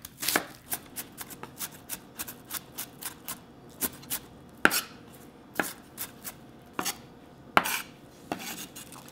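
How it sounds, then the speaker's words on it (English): A knife chops onion, vegetables and beef into small pieces for beef and vegetable porridge, a series of sharp, close taps on a cutting board in uneven bursts with short pauses. "Chop into really small pieces."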